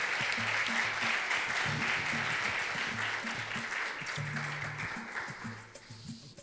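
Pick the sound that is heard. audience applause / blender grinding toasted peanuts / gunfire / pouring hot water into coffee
audience applause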